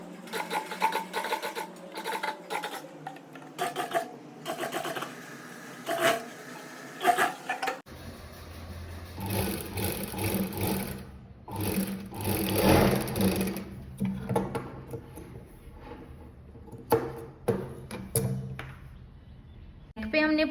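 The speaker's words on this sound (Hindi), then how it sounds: "और यहाँ पे भी पॉइंट की सिलाई लगा देंगे और नीचे भी।" Sewing machine stitching darts into a blouse, running in steady bursts of rapid mechanical whirring with short pauses as the fabric is repositioned, close and clear, with someone speaking Hindi at times over the noise.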